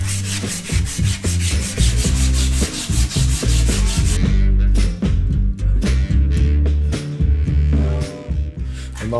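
Abrasive sanding on a steel rear frame tube of a BMW R80 motorcycle, rough repeated rubbing strokes close up, with a louder grinding stretch early, then choppier, irregular strokes.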